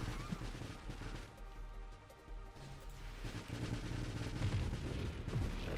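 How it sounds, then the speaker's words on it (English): Missiles strike swarming crabs in the space shooter Nova Drift, a dense rapid patter of small explosive hits and gunfire-like bursts running continuously with no pause. "I do like watching the missiles get in between the crabs and just go bing, bing, bing"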